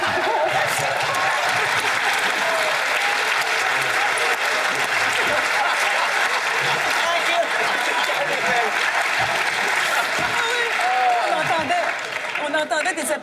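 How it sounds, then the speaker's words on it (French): Dense, sustained applause from a TV studio audience on a French entertainment show, loud and continuous for about thirteen seconds with murmuring voices mixed in, thinning slightly at the very end. "On entendait des applaudissements du forum"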